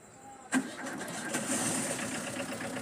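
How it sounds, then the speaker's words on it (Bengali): A Tata EX2 pickup truck's engine cranks and catches with a sharp onset, then settles into a steady, fairly loud running rumble close by with no talk over it. "এই যে দেখেন আপনারা গাড়িটি স্টার্ট দেওয়া হলো"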